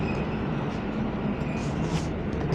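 Steady rumble inside an EN57AL Feniks electric train carriage, with a faint mechanical hiss and thud as the doors close, heard continuously and without speech.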